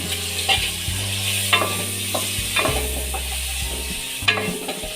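Halved boiled eggs fry in a pan for an egg biryani, a steady close sizzle with a few sharp pops and scraping stirs scattered through.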